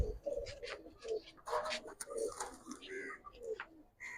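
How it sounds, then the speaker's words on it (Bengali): A pair of Cobra pigeons cooing close by, soft throaty coos repeating in a steady rhythm. "এক পেয়ার কোবরা কবুতর"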